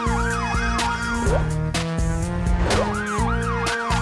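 Police vehicle siren wailing in rising and falling sweeps, alternating with steady tonal blasts over a musical backing, loud and continuous with no talking.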